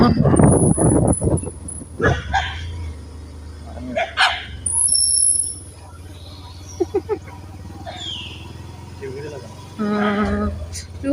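A dog barks a few times amid people talking nearby on a trip along the Sabarimala route in Kerala, with scattered yips and rustling between the voices.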